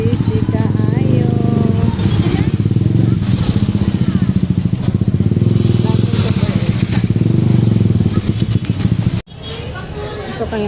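Motorcycle engine droning and revving amid heavy traffic in the Philippines, with voices and street chatter mixed in throughout.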